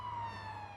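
An ambulance siren in the video game Watch Dogs 2, a loud steady wail with a slowly falling pitch, heard close and alone with faint road noise beneath.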